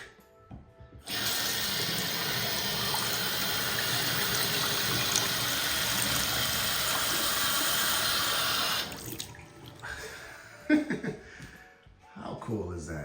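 A gold faucet built into a bathroom mirror in a luxury custom home runs a steady, fairly loud stream of water for about eight seconds, then shuts off. Voices and handling noises follow.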